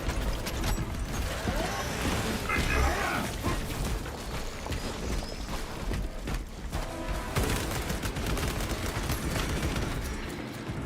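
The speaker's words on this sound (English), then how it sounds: "We'll shoot them till they no longer exist." Rapid gunfire and clanking weapon mechanisms from the video game Space Marine 2 during a fight against a Tyranid horde, a dense, continuous barrage of shots with booms layered throughout.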